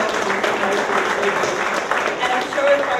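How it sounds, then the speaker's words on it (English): An audience at an evening banking-industry talk applauds with a dense, steady wash of clapping that holds at an even level throughout. "a round of applause for that"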